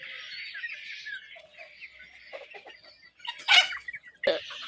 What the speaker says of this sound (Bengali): এই যে এখানে আমার 500 মুরগি 1 মাস বয়স চলতেছে